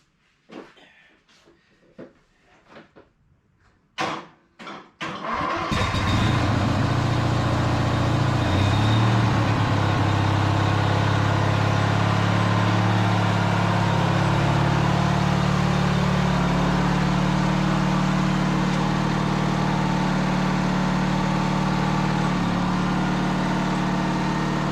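A car called Red, fitted with a new drive belt and adjusted brakes and checked for clutch trouble, starts up after a few door and handling clunks, then its engine runs steadily and loudly for the rest of the drive.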